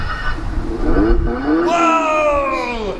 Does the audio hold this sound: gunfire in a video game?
no